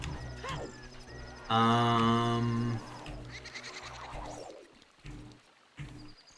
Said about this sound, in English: the horse is called Epona, or Epona